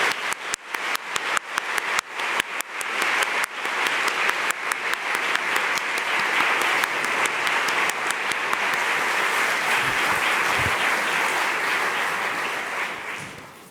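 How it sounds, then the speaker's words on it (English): A large audience at a conversation event with a National Security Advisor applauds Jake Sullivan and Meghan Sullivan, starting with scattered sharp claps that quickly swell into sustained, dense, even applause before tapering slightly at the end. "Please join me in offering a round of applause for Jake Sullivan and Meghan Sullivan."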